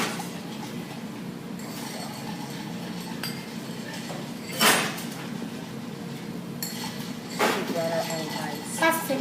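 A bourbon cocktail is stirred in a chilled glass, giving faint clinks and a couple of sharper chimes against a quiet room background, with a voice talking at times.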